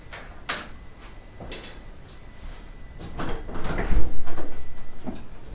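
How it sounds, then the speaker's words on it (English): A workshop door at a guitar repair shop is opened with scattered knocks and clatters, then a rumbling slide that builds and rolls along near the end. "I'm going to open my door"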